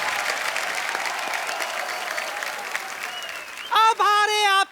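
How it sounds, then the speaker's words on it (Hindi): Studio audience applause on a Hindi comedy talk show, a steady roar of clapping under a host's voice, then cut off by loud musical horn-like tones at the end. "गीता जी के लिए जोरदार तालियां।"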